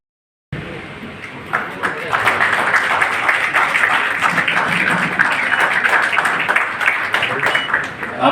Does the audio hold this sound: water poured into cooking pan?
no